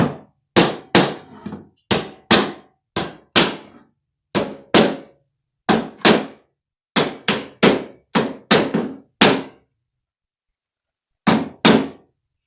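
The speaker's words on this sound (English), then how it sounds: "There's going to be some nails that are going to be needing to be pounded down" Nails pounded down with a hammer during bedroom demolition work, sharp close strikes in quick bursts of two to four, about two dozen blows with short pauses between.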